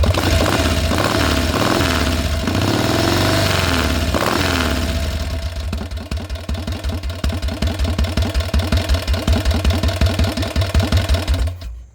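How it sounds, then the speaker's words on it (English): A Mitsubishi Evo engine idles just after a cold start, first a dense roaring run-up, then settling into a loud, close, rhythmic lumpy idle with steady pulsing beats. "Not bad for a cold start."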